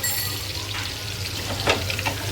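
Shrimp pakoda fries in oil at a farmhouse, giving a steady bubbling sizzle with scattered crackles and a few louder spits, and no one speaks.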